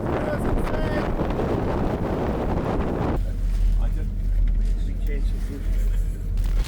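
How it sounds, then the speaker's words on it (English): Strong wind at Windy Point near Milford Sound buffets the microphone with a loud, constant rumble, roaring throughout the clip and shifting character partway through, with no clear voices over it. "it has gusts that can get pretty intense"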